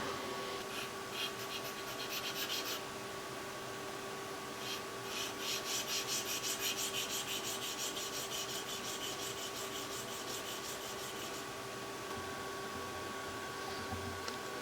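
Steady abrasive rubbing and filing on a knife blade as a burr is taken off during handmade interface knife making, with brief bursts of rasping strokes over a constant workshop hum.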